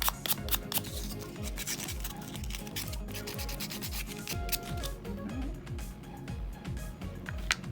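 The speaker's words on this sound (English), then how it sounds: "So I'm just gonna get the sandpaper and sand it clean." Sandpaper rubs a Scrabble tile magnet clean in quick, steady back-and-forth strokes, close and fairly quiet, with little or no talk.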